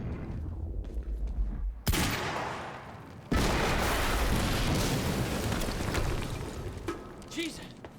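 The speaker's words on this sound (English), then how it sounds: "HQ, we just heard an explosion near the harvesting perimeter" A loud explosion in the video game Quantum Break hits suddenly with a sharp crack, followed by a second heavy blast and a long, roaring broadband rumble that gradually thins, with a voice heard faintly toward the end.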